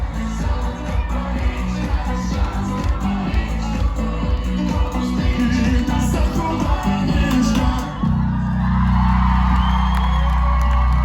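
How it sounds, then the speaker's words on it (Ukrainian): Concert crowd at a show in Mohyliv-Podilskyi, a dense wash of whoops and cheering over loud music that drops out near the end, leaving the crowd's roar and applause alone. "Давайте поаплодуємо, друзі."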